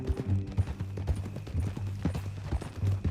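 Horse hooves clip-clop in a quick, steady rhythm in Red Dead Redemption 2, close and clear, with soft saddle and tack noise around the hoof beats and no talk over them.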